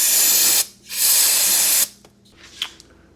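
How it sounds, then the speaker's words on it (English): Carb cleaner sprayed into a motorcycle carburetor in two loud, close hissing bursts, the second longer, followed by quieter clicks and faint rattling. "Hopefully I can just spray some carb clean down that and clean it up as is."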